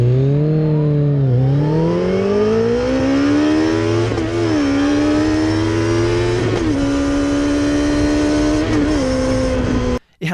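A Kawasaki ZZR1400 motorcycle engine revs loud and close, its pitch climbing through several quick shifts before cutting off abruptly at the end.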